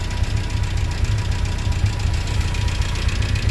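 Talbot Horizon engine fitted with motorcycle carburettors idling low and steady, a close, even rumble with a slightly lumpy pulse and no voices.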